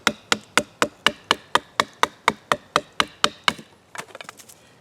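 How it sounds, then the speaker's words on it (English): Bark River Aurora LT knife with an Elmax steel blade being batoned through wood for firewood: about fourteen sharp, evenly spaced knocks, close and loud, ending in a few lighter scattered taps. "batoning for firewood"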